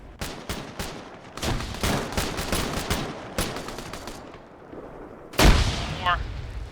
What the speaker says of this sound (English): They threw a grenade.